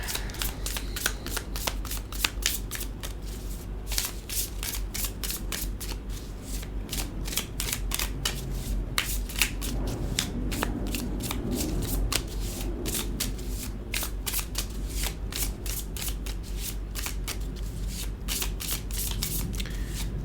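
Tarot cards from an animal deck are shuffled by hand in rapid, crisp riffles and flicks that repeat close up and fairly quietly, with no talk over them.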